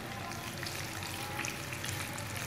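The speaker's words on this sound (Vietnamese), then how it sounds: "Đậu đã bỏ bếp rán các bạn nhé." Egg-dipped stuffed tofu frying in a pan, giving a steady, close sizzle and crackle of hot oil that runs evenly throughout without any talking.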